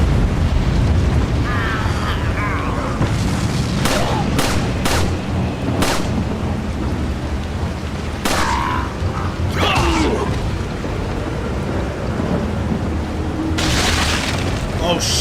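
Barrels on a wagon blowing up after being shot in Resident Evil 4, a run of loud booming blasts and sharp gunshot cracks over game noise, with a voice talking in between.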